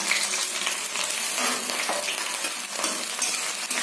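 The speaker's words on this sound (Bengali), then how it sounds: "তেজপাতাটা একটু নেড়ে তার সাথে দিলাম পেঁয়াজ" Onions frying in hot oil with a bay leaf, a dense continuous close sizzle with light crackles and faint utensil taps.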